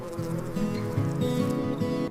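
A steady bee buzz drones throughout among sunflowers, a low humming whine with slight wavering pitch, close and continuous, with no voices.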